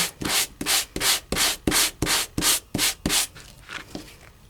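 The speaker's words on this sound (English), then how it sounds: "I'm going to give this a nice little sand" A sanding block scrubs back and forth over raised embossed cardstock in eight rapid, even strokes, close and crisp, then the rubbing fades into softer scrapes.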